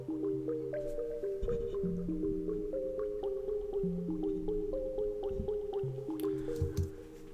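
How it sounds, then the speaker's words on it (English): Logic Pro's Alchemy Water Keys synth preset plays a melodic line of watery, plucky notes with drippy, bubbling attacks over sustained lower tones, moving in a steady rhythm, clean and moderately quiet with no voices. "So let's just listen to that Water Keys preset."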